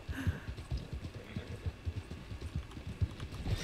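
Quick rhythmic hoofbeats from a horse in a video game, a steady galloping clip-clop at moderate loudness carrying through the whole short stretch without talking.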